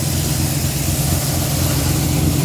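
A V8-swapped Volvo fitted with a Quick Fuel 780 CFM vacuum-secondary carburetor idles with a steady, deep rumbling burble, close and loud, holding an even pitch without revving.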